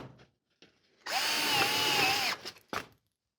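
A power drill whines for just over a second as it drives a screw into a sheet metal HVAC duct seam, close and loud, then a few short clicks and taps follow.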